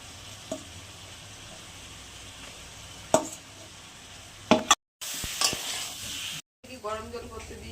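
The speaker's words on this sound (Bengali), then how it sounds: "এটাও দিয়ে দিলাম। এখন কষিয়ে নেবো।" Rohu fish pieces and fish roe sizzle and sputter in a pan, with a few sharp clinks of a spatula stirring them and two brief silent gaps before the frying resumes.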